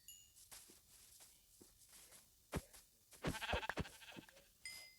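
Sheep in the Minecraft mobile video game bleat a few times amid scattered clicks and footsteps, short nasal calls bunched near the middle and a final bleat at the end.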